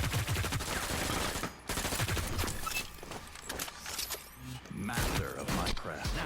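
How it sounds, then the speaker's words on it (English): A weapon reload in the video game Hyper Scape, with mechanical clicks and clacks layered over busy gunfire and game noise, loud and dense throughout. "Reload time."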